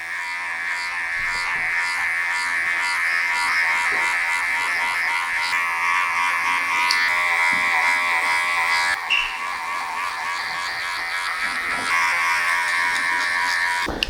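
Electric hair clippers with a close guard, set to a number 3, taper the back and sides of a man's haircut, giving a steady, close, bright buzz that continues unbroken with slight shifts in pitch as the blade moves.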